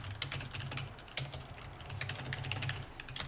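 Rapid typing on a computer keyboard while entering text for a Naver blog widget button, a dense, close patter of light key clicks running throughout with no voices.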